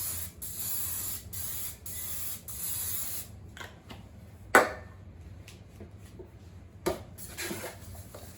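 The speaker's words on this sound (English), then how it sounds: "sometimes it's just a little bit easier with cooking spray" Several short bursts of cooking spray hiss in sequence, followed by a couple of sharp clicks or taps in a quiet room.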